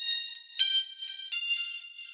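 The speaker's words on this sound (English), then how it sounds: "Then I have a steel drum layer that's only taking up the high end of the spectrum too." Bright metallic synth tones ring out in a quick rhythmic pattern, high-pitched and bell-like, each note shimmering briefly before the next.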